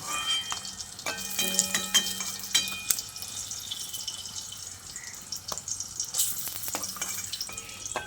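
Pointed gourds (potol) frying in hot oil give a steady, close sizzle with scattered crackles and brief clinks of a utensil, with no voices.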